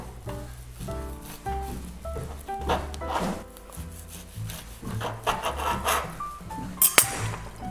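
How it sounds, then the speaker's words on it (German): A knife saws and presses through a homemade kimbap roll, slicing it into small pieces on a board with repeated soft rubbing and scraping strokes and a few light clicks, close and clear, with no voices. "Und jetzt werde ich das Ganze dann in kleine Stücke schneiden."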